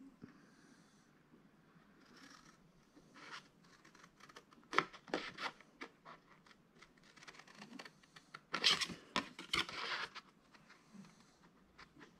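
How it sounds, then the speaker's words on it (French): Paper being cut for a handmade Christmas photo album, close and quiet, with irregular crisp snips and scratchy rustles that grow into denser bursts near the end, no voices. "Et on vient couper."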